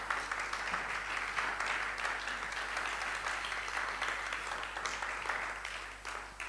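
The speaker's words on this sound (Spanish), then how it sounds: "Un fuerte aplauso para todos ellos, por favor." Applause from the audience at the Vociferio 2021 poetry festival, a fairly faint, even roar of many hands clapping from a distance, with a low hum beneath it, tapering slightly at the end.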